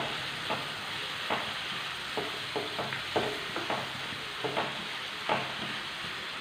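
Shallots sauté in a pan with oil for prawns roast, a steady soft sizzle broken by regular scraping strokes of a spoon stirring, about a dozen stirs at an even pace.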